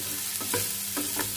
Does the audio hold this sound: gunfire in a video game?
no